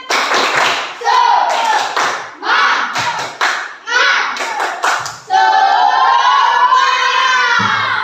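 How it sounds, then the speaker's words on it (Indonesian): A class of children performs a rhythmic spirit clap, with short bursts of clapping mixed with loud chanted voices, ending in a sustained group shout, all close and loud. "Sekali lagi tepuk semangat."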